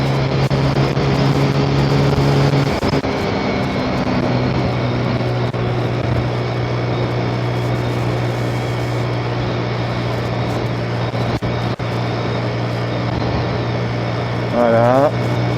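125cc motorcycle engine droning steadily as the rider opens the throttle a little, a constant close hum with a brief rising whine near the end.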